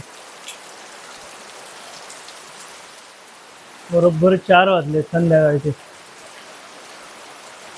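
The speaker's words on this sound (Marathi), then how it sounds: "पाऊस बघा खतरनाक पाऊस पडतो" Steady hiss of rain falling throughout, with someone speaking briefly in the middle over the downpour.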